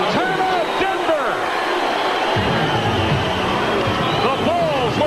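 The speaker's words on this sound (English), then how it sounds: "Listen to the crowd." Basketball arena crowd at a 1996 Chicago Bulls versus Denver game roaring and cheering loudly throughout, with whoops and shouts rising out of the dense noise and a commentator's voice over it.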